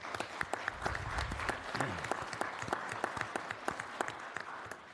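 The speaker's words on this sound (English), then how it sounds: "Let everybody clap for you." A small audience at a city council meeting claps steadily, with sharp individual hand claps standing out over soft, distant applause.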